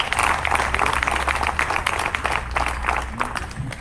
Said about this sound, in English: I wasn't planning on that clap